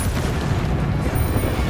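A Confringo spell blast in Hogwarts Legacy erupts as a loud, sustained booming roar with dense low rumble, filling the moment without any voice over it.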